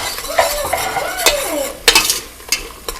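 A utensil stirs a biryani mixture in an oily pan, scraping and clinking against the metal several times over a soft sizzle, close and fairly loud with no talking.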